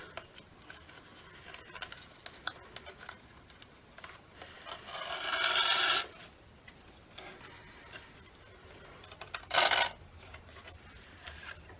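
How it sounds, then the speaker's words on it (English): Organza ribbon, 3/8 inch wide, threaded through holes gives faint rubbing and ticking, broken by two short, louder rustling swishes. "I'm just going to thread it through my holes."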